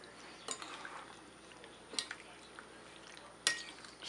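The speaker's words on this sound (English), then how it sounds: "Give that a nice little stir in there. Make sure it all gets nice and coated." Chicken stirred with black pepper in a bowl, soft scraping and three distinct clinks of a utensil against the dish, fairly quiet.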